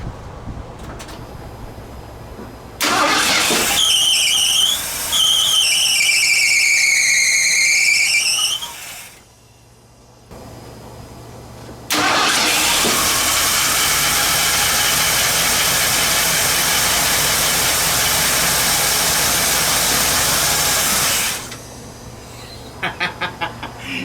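Engine of a junkyard Bullnose Ford cranking and catching on a newly fitted carburetor after an EFI-to-carb swap, loud bursts of cranking and running with pauses between, fairly close.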